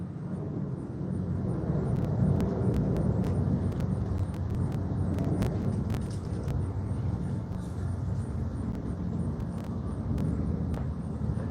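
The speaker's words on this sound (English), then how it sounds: "I'm close by a airport here, guys. So, you hear that plane?" A fixed-wing airplane flying over near an airport: a steady, broad low rumble of engine noise holds throughout, loud and continuous, with faint clicks on top and no talking.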